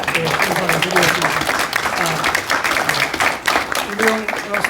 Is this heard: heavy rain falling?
no